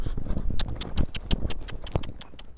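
A horse galloping, its hooves clip-clopping in a quick, steady rhythm of loud, close thuds over a continuous outdoor rumble.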